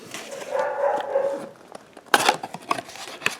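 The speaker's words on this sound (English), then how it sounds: "as you're more likely going to recognize it, as a dog barking" A dog barks in a few short, sharp bursts near the end, after a stretch of steady low hum; the barks are fairly close and clear.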